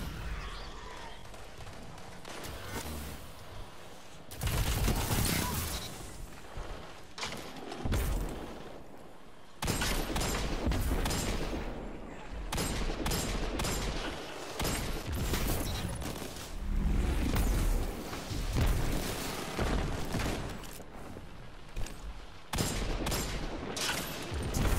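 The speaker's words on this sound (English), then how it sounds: "Why y'all chasing me with a grenade launcher?" Repeated explosive blasts and gunfire from a video game battle where players fire grenade launchers, loud bursts in rapid clusters across the whole stretch with dense crackling between them.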